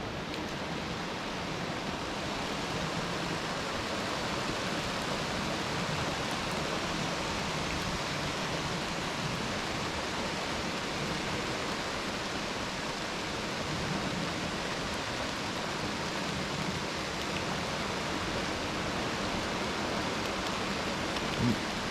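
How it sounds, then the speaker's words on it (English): Heavy rain falling at night at Warren Dunes Campground, a steady, even broadband hiss heard from indoors and lasting the whole stretch, with no talk. "Raining pretty good out there now."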